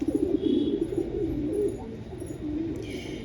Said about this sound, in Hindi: ये कबूतर जो स्लेटी कबूतर है